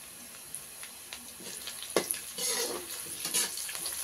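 Onions fry in a pan with a soft, steady sizzle and crackle, joined by occasional stirring clicks and scrapes partway through, heard close with no talking.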